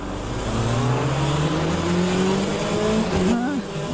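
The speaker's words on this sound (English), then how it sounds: "We're going to get around the chicane with this hypercar" A hypercar in the Le Mans Ultimate racing game howls through a chicane with a rising engine note, shifting gears and squealing its tyres, loud and continuous.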